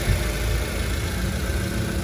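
A 2003 Mitsubishi Lancer with a 1.6-litre engine and automatic gearbox idles steadily up close, a smooth, even low rumble with no revving and no voices.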